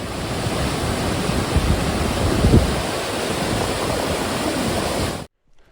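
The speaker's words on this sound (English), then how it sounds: "lots of waterfalls" A loud, continuous rush of falling water from a waterfall at Devil's Kitchen, Llyn Idwal, Snowdonia, with wind buffeting, cutting off abruptly at the end.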